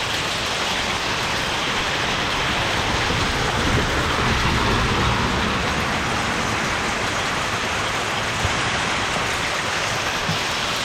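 Heavy rain and large hailstones pour down onto trees during a mountain bike training ride, a dense, steady, loud roar of hammering drops with no gaps from start to finish and no voices.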